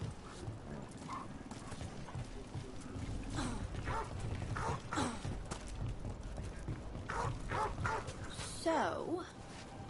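A dog barks a few times in the Dragon Age: The Veilguard video game, short yips and barks set among game sounds and clopping hooves, with people talking over them.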